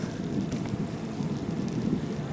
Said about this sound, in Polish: Trochę wiatr wieje, ale no cóż, życie.